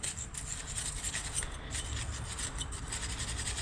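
Scraping of Ford Transit brake pad hardware during a brake job, a continuous close gritty rasping with quick repeated strokes, fairly quiet and with no talk.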